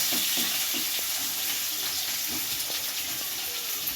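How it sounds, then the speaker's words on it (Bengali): Chopped onions fry in a pan for a Bengali lotte fish curry, giving a continuous close sizzle with soft rhythmic scraping as they are stirred. "কুচিয়ে রাখা পেঁয়াজ পেঁয়াজটাকে হালকা করে ভেজে নেব"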